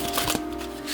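A tarot deck with good card stock and borderless cards being shuffled in the hands. A brief run of soft, crisp riffling sits close to the microphone over a steady faint hum.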